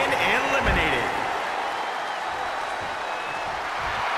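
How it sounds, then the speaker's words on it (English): Arena crowd in the WWE 2K22 wrestling video game roaring loudly at the start, then settling into a steady, dense wash of cheering through the rest of the moment. "The sound of this crowd is deafening, and he's asking for more."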